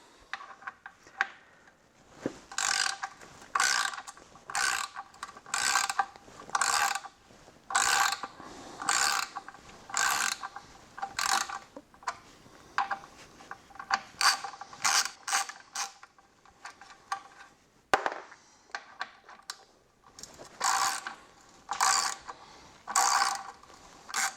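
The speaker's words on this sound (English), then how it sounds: "we're going to remove the factory skid plate, which is held by 5 bolts" Ratchet wrench clicking in repeated quick bursts while undoing the five bolts of the factory skid plate on a BMW R1200GS Adventure motorcycle, close and crisp with short pauses between strokes.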